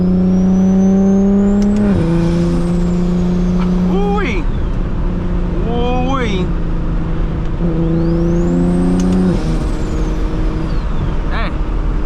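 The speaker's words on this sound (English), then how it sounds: "Woo, when them downshifts go crazy." A single-turbo BMW 335is revs and downshifts repeatedly in loud, close interior engine sound, its pitch dropping sharply at each gear change before climbing again.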